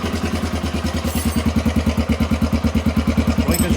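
A 1993 Honda XR250L dual-sport motorcycle idling up close, its single-cylinder engine thumping in a quick, even pulse with a slight mechanical clatter.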